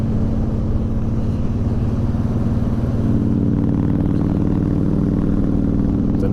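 A 2011 Honda VT1300X Fury cruiser engine under way, a steady low thrumming rumble with a loud, even drone and a slight rise in pitch toward the end, close and constant with no talk.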